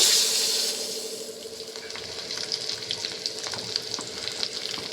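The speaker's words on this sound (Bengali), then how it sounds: "নুন আর হলুদ দিয়ে এবার এই ডিমগুলো এক এক করে ভেজে নেব।" Eggs seasoned with salt and turmeric fry in a pan, giving a steady, close sizzle with crackling pops throughout and a brief brighter hiss at the start.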